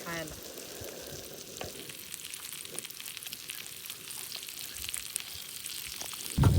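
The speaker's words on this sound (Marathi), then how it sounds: "मस्त मच्छी फ्राय झाली. आता एक पलटी मारली तिला. रवा फ्राय." Rava-coated fish just flipped on a hot griddle during outdoor cooking, a steady close sizzle and crackle of frying oil throughout, with a louder clatter at the very end.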